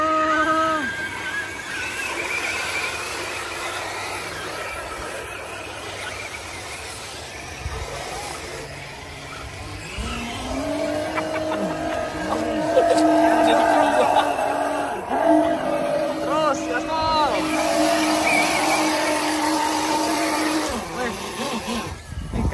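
Vanquish RC off-road car running through sand on an outdoor trail course, its electric motor whining steadily and rising in pitch as it pushes on, with people talking over it throughout.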